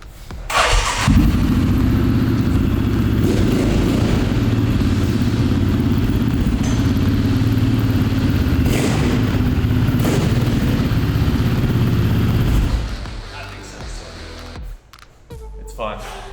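An ENR 12 motorcycle fires up on its electric starter, then settles into a loud, close, steady idle with a few revs for about twelve seconds before shutting off; brief talk follows.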